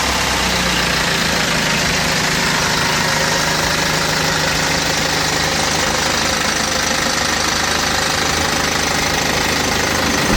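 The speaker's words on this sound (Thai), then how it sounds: "เดี๋ยวอีกอย่างนึงเราจะไปลองสตาร์ทรถกลับไปลองขับกันนะคะ" A 2012 BMW X3 20d with a 2.0-litre diesel engine runs at a steady idle close by, a loud, continuous diesel clatter with a knocking rhythm that never lets up.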